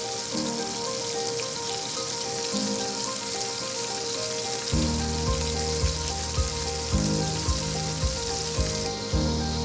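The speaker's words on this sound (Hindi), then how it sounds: "कुछ कबाबों को मैं इस तरह फ्राई कर रही हूँ" Beef seekh kebabs fry in a pan with a steady, close sizzle, like rain on a hard surface. Midway, soft repeated thumps and crackles join the hiss.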